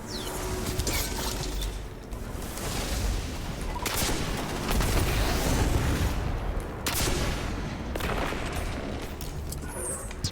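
Steady gunfire from a first-person shooter, Destiny, fills a fight against enemies in a Lost Sector: dense volleys of shots and booms rolling almost continuously, loud and close, with no talking.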